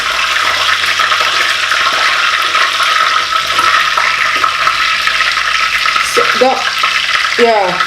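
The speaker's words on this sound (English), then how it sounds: "I find that it really tastes good when mackerel fish is fried" Mackerel fillets sizzle and spit steadily in a hot frying pan for a Nigerian fish stew, a dense continuous hiss throughout, with a voice speaking briefly near the end.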